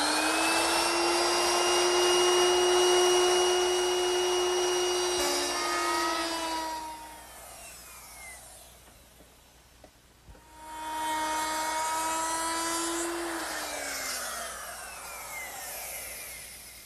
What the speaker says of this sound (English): I'll make that beveled rabbet using a 22-degree beveling bit